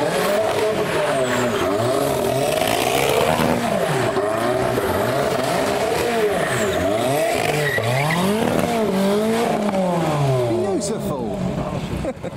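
A supercar engine at a car show revs loudly and continuously over a busy street, with rising and falling pitch sweeps, tire noise and crowd chatter around it.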